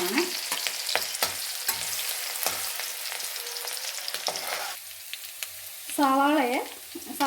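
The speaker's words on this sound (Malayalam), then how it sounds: "ആ എണ്ണയ്ക്കകത്തോട്ട് തന്നെ പച്ചമുളക് ഇടുവാണ്" Three finely chopped green chillies drop into hot oil left from deep-frying and sizzle loudly and close, with stirring clicks throughout and a brief voice-like sound near the end.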